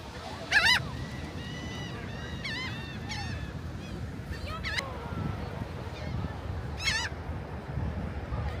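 Birds feeding at Rehoboth Beach, Delaware, give goose-like honks and calls in short repeated bursts, moderately close, over steady outdoor wind and surf noise.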